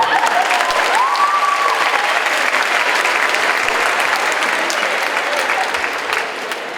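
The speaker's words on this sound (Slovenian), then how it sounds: "dajmo še en aplavz za plesno skupino" Sustained audience applause for a dance group at a 2019 charity concert, a dense, steady wash of many hands clapping, loud and close, fading slightly toward the end.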